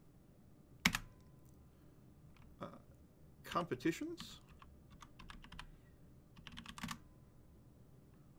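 Short bursts of keyboard typing, a few quick clusters of key clicks with pauses between, close and fairly quiet, with a voice speaking briefly.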